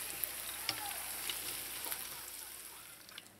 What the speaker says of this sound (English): I'm going to continue frying the rest.